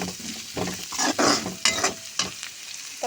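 Mint leaves sautéed lightly in a pan, heard close up as bursts of sizzling mixed with scraping stirring strokes, with no voices.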